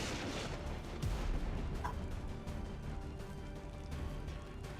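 A flashbang grenade goes off in a squad-based video game, a single quiet thump about a second in amid faint scattered gunfire-like bangs and low background noise.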